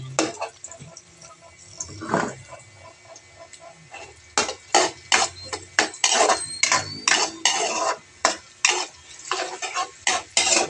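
Sautéed onions are stirred in a pan, with a spoon scraping and clinking against the metal in quick, uneven strokes over a faint sizzle. The stirring gets busier and louder in the second half.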